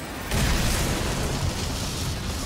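Explosion in Dishonored bursts suddenly after a short quiet lead-in, a loud broad blast that lingers as a sustained rumbling roar to the end.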